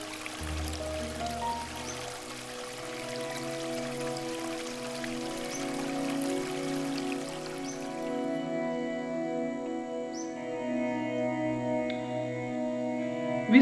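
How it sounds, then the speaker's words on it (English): Water streams flow along a monsoon trekking trail near Harihar Fort in Nasik, Maharashtra, a steady close rushing and trickling with a faint tonal drone running underneath. "The sound of the water streams was very refreshing"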